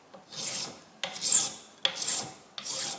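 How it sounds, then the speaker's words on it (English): A file cross-filing a wooden night light back board: four steady one-directional rasping strokes, evenly spaced and close, with no talking. "When cross filing, you should always just go one way across the material."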